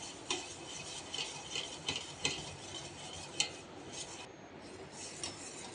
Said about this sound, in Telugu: ఇప్పుడు మనం పెరుగుని బీటర్తో బాగా మిక్స్ చేసుకోవాలి